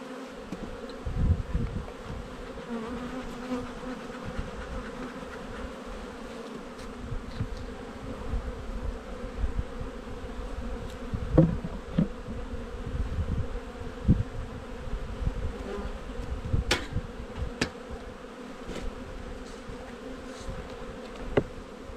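Honey bee colonies give off a steady, dense buzzing hum that fills the whole stretch, close and continuous, with occasional louder bees passing near and a few soft knocks from hive handling.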